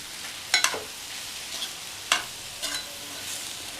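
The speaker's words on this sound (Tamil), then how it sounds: "தேங்காய் துருவல் சேர்த்துட்டு ஸ்டவ் ஆஃப் பண்ணிவிட்டு நல்லா மிக்ஸ் பண்ணி விட்டுடலாம்." Chow chow (chayote) poriyal mixed with grated coconut in a pan after the stove is switched off: a handful of sharp spatula scrapes and clatters over a faint, quiet hiss.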